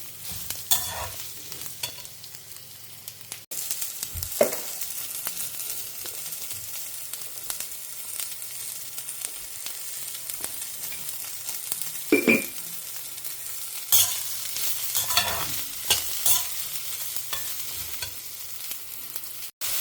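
Onions sauté with salt and turmeric in a pan, a soft continuous sizzle with occasional clinks and scrapes of a stirring spoon, close and fairly quiet, no speech.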